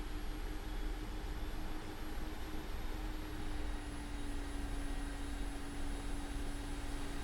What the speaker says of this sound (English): The main rotor is getting faster, engines are getting louder